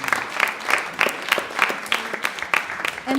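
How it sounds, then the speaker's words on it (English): Sustained applause from an audience at a theatre festival event, dense clapping with a few sharper individual claps standing out, with no voice over it. "let's give another round of applause for Mihaela and George and Petra"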